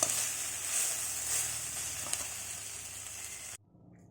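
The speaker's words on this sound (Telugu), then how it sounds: "ఆకులన్నీ ఇలా ఫ్రై చేసుకోవాలి" Several kinds of leaves fry in oil for pulihora, a constant close sizzle with no talk that cuts off abruptly near the end.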